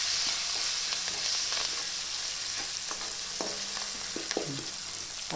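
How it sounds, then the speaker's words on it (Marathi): Eggplant pieces with coriander sizzle in hot oil for khar vange, a steady close crackle with occasional stirring clinks and scrapes, no voices. "हे पण तेलामध्ये चांगली त्याची फ्राय करून घेते."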